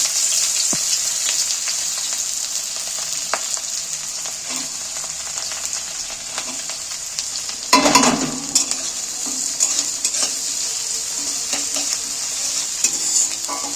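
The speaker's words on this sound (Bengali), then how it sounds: "আমি পেঁয়াজগুলো তেলের মধ্যে তুলে দিচ্ছি।" Finely chopped onions fry in oil with a bright, continuous sizzle, close and loud, with scattered stirring clicks and a brief louder burst of crackling partway through.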